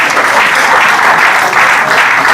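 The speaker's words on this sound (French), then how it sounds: "Est-ce qu'on peut applaudir?" Thick, continuous audience applause fills the room after a speaker's talk, loud and even from start to finish with no voices breaking through.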